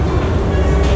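Baku metro train running, a steady loud low rumble and rolling hum filling the whole second with no voices.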